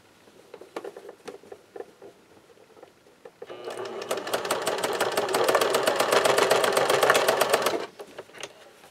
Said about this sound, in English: I'm going to just sew straight across here